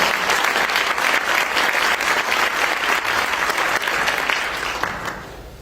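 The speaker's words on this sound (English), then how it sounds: "So give ourselves all a round of applause for doing the hard work to get us here." A crowd at a Chicago anti-violence program announcement bursts into sustained applause, a thick, loud clatter of many hands that holds steady and then tapers off toward the end.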